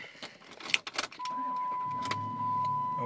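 A 2007 Dodge Charger Daytona Sublime is started: keys and clicks come first, then the engine catches and settles into a steady idle heard close up.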